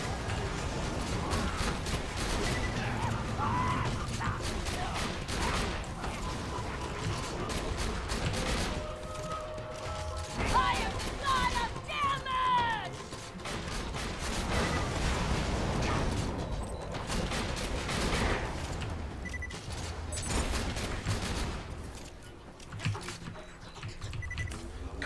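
Weapon fire in Borderlands 2, from an odd shotgun that whirls up a tornado in front of the player: continuous crackling bursts and mechanical clatter throughout, with game effects and some talk mixed in.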